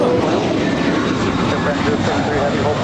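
A JetBlue airliner departing LAX gives a steady, broad jet roar throughout, with people talking over it.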